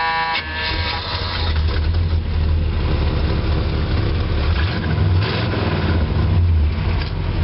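An old 1976 Pontiac Catalina engine idles steadily close by, a rough low rumble with a faint rattling tick over the top.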